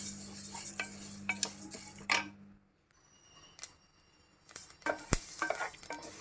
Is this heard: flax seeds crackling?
yes